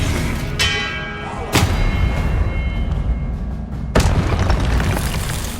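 A spell is cast in the Hogwarts Legacy video game during a boss fight, with heavy booming impacts and ringing, bell-like resonance, three strong hits spaced through a loud, continuous game soundscape.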